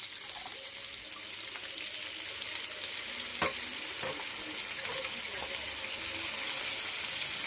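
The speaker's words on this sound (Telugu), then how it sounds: "ఇప్పుడు మెంతెం కూర వేసుకోవాలి" Cauliflower curry fries in a pan as fenugreek leaves go in, giving a steady, fairly loud sizzle throughout with a few sharp stirring clicks and scrapes; no talking.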